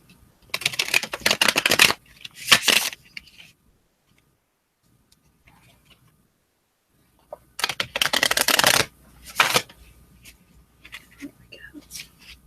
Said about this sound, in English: Apologize in advance if I riffle shuffle in anyone's ears.